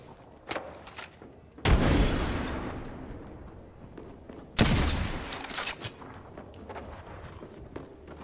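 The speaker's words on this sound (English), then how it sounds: "Throwing a frag!" A frag grenade explosion in the Apex Legends battle royale shooter booms loud and close, trailing into a long rumbling decay, with a second heavy blast a few seconds later amid scattered gunshots and footsteps.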